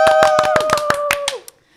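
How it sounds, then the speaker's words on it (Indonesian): Audience clapping at a talk-show style event, about a dozen sharp, distinct claps in quick rhythm, close and loud, with a sustained tonal hum beneath that fades as the clapping stops abruptly. "Tepuk tangan dong."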